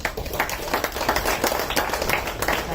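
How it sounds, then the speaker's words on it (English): Short burst of audience clapping for a session, scattered and fairly soft, lasting under three seconds. "So can we have a round of applause for Steve Jobs"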